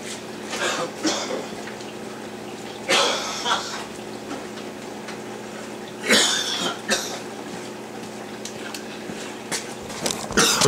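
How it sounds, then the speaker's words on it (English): A person coughs in several harsh bursts spaced a few seconds apart, close by, with quiet rustling between them. "Sorry for coughing. I'm having a fit over here."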